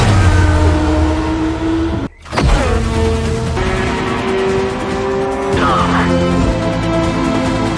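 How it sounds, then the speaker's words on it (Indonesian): A race car on the final lap, its engine screaming loud and close with rising and falling pitch through gear shifts, a brief cut mid-run, then tire squeal while cornering. "Dan kini Jan berada di lap terakhir, harus bisa menyalip tim Kappa untuk menempati minimal posisi ketiga"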